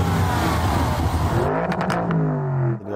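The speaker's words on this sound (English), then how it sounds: "So let's hear it. Go on, let's start the engine." Lamborghini Urus engine roaring loudly and revving up in a strong rising sweep, then settling back to a rumbling idle with brief pauses between surges, close and dominant with no speech.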